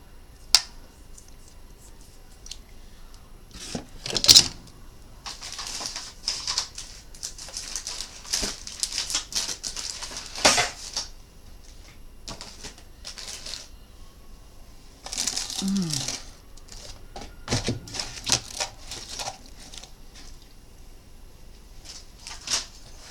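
Paper edges are trimmed for a handmade box, giving scattered crisp snips, rustles and crinkles at close range. The sounds come in irregular bursts separated by short pauses.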